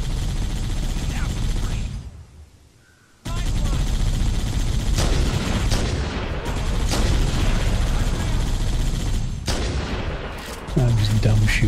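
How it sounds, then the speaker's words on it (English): Rapid gunfire and booming weapon blasts from the game Halo: Combat Evolved, loud and sustained with repeated shots, a brief near-silent gap early on, and game sounds layered over the shooting. "I'm just dumb shooting now."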